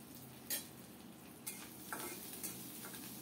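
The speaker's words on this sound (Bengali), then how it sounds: "অল্প তাপে নেড়ে চেড়ে সুন্দর করে মচমচে করে শুটকিগুলো ভেজে নেব" Quiet, steady sizzling of dried fish frying in a little mustard oil over low heat, with four sharp scraping clacks of a spatula stirring the pan at uneven intervals.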